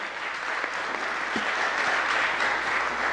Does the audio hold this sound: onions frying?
no